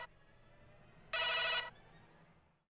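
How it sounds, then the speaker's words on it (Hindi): Telephone ringing indoors, a bright electronic ring burst for about half a second, preceded by a faint brief chirp, over low background hum. "मेरा एक फोन आ रहा है।"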